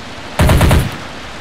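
A short, loud burst of rapid automatic gunfire from the Strateejik Battles video game, about five quick shots in a row over a steady background hum.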